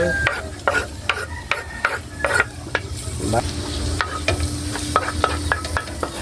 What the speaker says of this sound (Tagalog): Gisa na po tayo mga idol. Yung bawang.